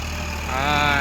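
A tractor engine idles steadily nearby with a low droning rumble that rises slightly in pitch partway through.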